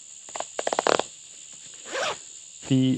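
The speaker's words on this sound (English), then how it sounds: "That zip is a little tough at the moment" A zipper on a camera bag is tugged open in quick, close rasping bursts, stiff and uneven, with a short pause before a final pull.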